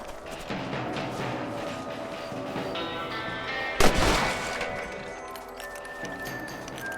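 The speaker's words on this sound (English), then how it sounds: "You're better at shooting rabbits than outlaws, I see." A single loud gunshot rings out midway through a rabbit hunt in the video game Red Dead Redemption, set against steady outdoor game ambience and faint background music.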